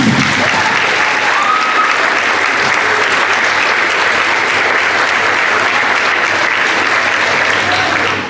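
A large crowd at an elementary school clap-out gives a long, loud round of applause for the teachers, dense and steady throughout.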